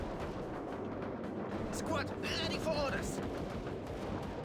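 Gunfire and artillery blasts in the war strategy video game World War Commander, a dense rumbling barrage of shots and explosions under excited talk from players.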